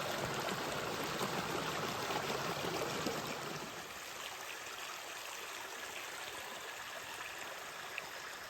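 A mountain stream in a New Mexico canyon rushes steadily along a trail through the water, a dense close wash of flowing water that softens slightly partway through, with no voices.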